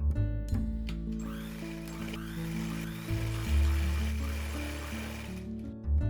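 A sewing machine runs steadily close by while stitching the folded half-inch edge along the side of a kameez flare, its motor drone broken by brief pauses and restarts, with no talk.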